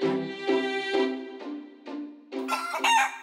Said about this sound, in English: That watermelon just clucked like a chicken.